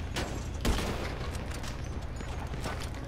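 Gunfire in Grand Theft Auto V during a firefight, a scatter of sharp shots with one heavier blast early, over a continuous noisy rumble of combat, with no talk.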